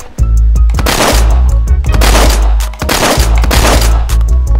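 Loud gunfire in a shooter video game: rapid, repeated bursts of shots follow one another without pause across the whole stretch.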